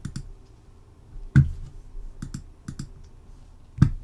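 A computer mouse clicks while a Scratch project is built, giving sparse crisp clicks, some single and some in quick pairs, close and quiet with no talk.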